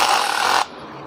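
A DeWalt DCH072 cordless rotary hammer drills into a surface in one loud, steady burst lasting just over half a second, then cuts off abruptly, leaving only quiet room tone.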